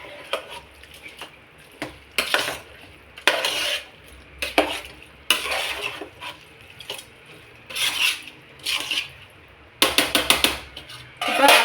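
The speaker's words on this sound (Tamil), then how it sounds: "இப்போ நல்லா கிண்டி விட்டுக்கலாம். அரிசி வந்து எண்ணெயிலையும் மசாலையும் நல்லா கிண்டணும்" A spoon scrapes and stirs rice with oil and masala in a metal pot for chicken biryani, in irregular bursts of clattering and scraping separated by quieter gaps.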